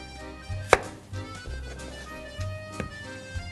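Knife chopping fresh garden zucchini and squash on a cutting board: a few sharp, close cuts against the board, one especially crisp and loud, spaced irregularly with soft handling noise between them.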